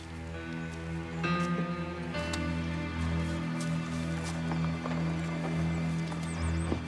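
Horse hooves clip-clop in a steady, unhurried rhythm on hard ground, near and fairly loud, with a low background hum and a faint horse whinny near the end.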